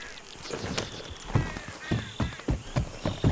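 Horse hooves clip-clop at a steady walking pace, moderately close, over a faint background ambience in the video game Red Dead Redemption 2.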